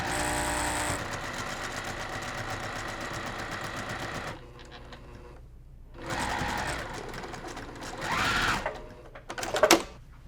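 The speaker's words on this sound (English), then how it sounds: "So we're going to start stitching before, stitch all the way over, and stitch past your previous stitches." A sewing machine stitches binding onto a cross stitch mug rug in a loud, steady motor run that stops, then restarts in shorter bursts with a few clicks near the end.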